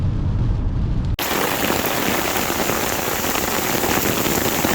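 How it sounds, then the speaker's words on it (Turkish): Heavy rain pounds an Opel Insignia while it is driven, a dense, loud hiss of drops on the car that starts abruptly and continues without a break. "Şu an metrekareye ne kadar kilogram yağmur düşüyor bilmiyorum"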